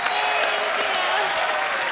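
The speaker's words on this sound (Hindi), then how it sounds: "दोनों के लिए जोरदार तालियां हो जाए।" Studio audience at a Hindi comedy show applauding: a loud, dense, steady wash of clapping from many hands, continuous throughout without a break.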